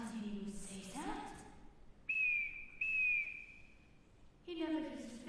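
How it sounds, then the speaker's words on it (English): A shrill whistle sounds twice in long steady blasts during a high school stage production of The Sound of Music, preceded and followed by brief voices. "I can't bear being whistled for."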